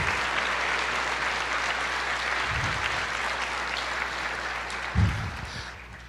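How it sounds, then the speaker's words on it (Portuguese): Church audience applauding, a continuous wash of many hands clapping at moderate distance, with a couple of brief low thumps and a steady low hum beneath. "aplauda ao Senhor"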